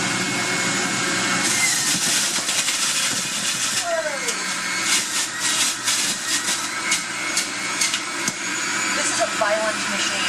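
A loud electric juicer grinds and whirs continuously as kale leaves and cucumber are pushed through it, with a person talking over the machine noise.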